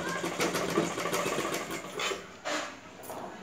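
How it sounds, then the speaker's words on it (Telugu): A sewing machine stitches a blouse lining and main cloth together, running in steady rapid bursts with a brief pause and restart near the end, close and fairly loud. "రెండు కరెక్ట్గా పెట్టుకుంటూ లైనింగ్ను మెయిన్ క్లాత్ను రెండు కరెక్ట్గా పెట్టుకొని స్టిచ్ చేసుకోవాలి."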